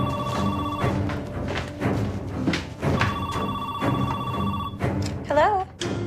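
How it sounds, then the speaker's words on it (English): A telephone rings for an incoming call with repeated bursts of a bright electronic ring, fairly loud and near, punctuated by a few thumps, with a short warbling tone toward the end. "Karen gets an unexpected phone call from David's mistress, Stephanie."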